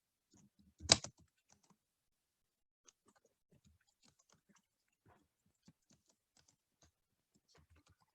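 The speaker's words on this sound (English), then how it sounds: "I'm just going to type a preamble before I put in the table." Brief burst of keys on a computer keyboard while typing up a festival proposal document, one louder cluster near the start and then sparse, faint scattered taps in a quiet room.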